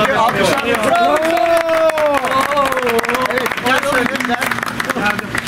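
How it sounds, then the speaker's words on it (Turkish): A crowd applauds at an amateur football cup final, with scattered clapping running underneath. A loud voice talks over it throughout. "Alkışlar. Bravo."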